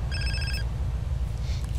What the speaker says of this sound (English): I should get a phone call